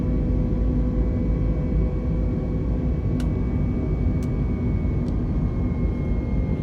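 Airbus airliner engines in Microsoft Flight Simulator 2020 climb out after takeoff from Bristol with a steady, loud broadband roar and low rumble, joined by a few faint clicks.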